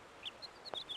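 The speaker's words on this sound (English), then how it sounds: "they had to really dig to find a stock bird sound effect that wasn't the hawk screech" A stock bird call in the video game Syberia: a few short, quiet high chirps scattered across a second, with no talk over them.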